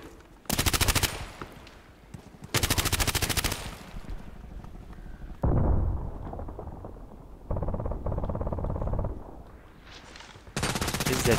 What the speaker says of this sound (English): even though I'm shooting at them